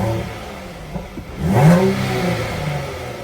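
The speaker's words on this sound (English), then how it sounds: "And let's give it a few revs." A 2017 Jaguar F-Pace S supercharged 3.0-litre V6 engine revs up sharply, its pitch rising with a throaty roar, then settles back to a rumbling idle close by.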